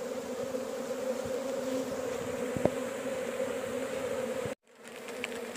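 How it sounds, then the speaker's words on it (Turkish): A dense, steady buzzing of a large, strong honeybee swarm fills the clip at close range, then cuts out abruptly near the end before resuming. "Bu kadar güçlü bir oğul. Büyük bir oğul."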